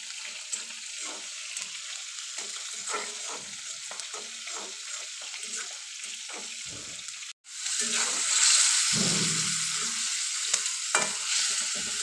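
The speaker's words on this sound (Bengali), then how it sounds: "এইখানে আমি তেলের মধ্যে পেঁয়াজ ভালো করে ভেজে তারপর রান্না বান্নাটা করে নেব।" Onions frying in oil for a fish dish sizzle steadily, with spatula stirring scrapes over the hiss and a louder burst of frying after a short cut.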